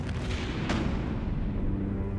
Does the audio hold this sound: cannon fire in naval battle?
yes